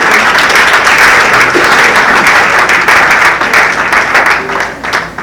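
A church congregation applauds steadily and loudly at a memorial tribute service, a dense, continuous wash of clapping that thins slightly near the end.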